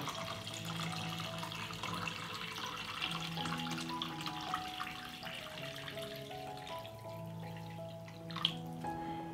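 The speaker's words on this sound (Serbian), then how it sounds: "Sipam vodu u šerpu do visine poklopca." Water pours steadily into a pot with jars standing in it, a continuous gurgling, dripping stream at moderate distance with shifting pitch as the level rises, no talking.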